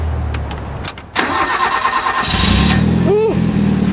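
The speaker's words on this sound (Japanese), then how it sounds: "じゃあちょっとエンジンかけてみてもらえますか？" A Toyota Starlet under restoration starts up: a brief cranking whir, then the engine catches and settles into a loud, steady idle close by, with a faint slight exhaust leak from a worn muffler gasket.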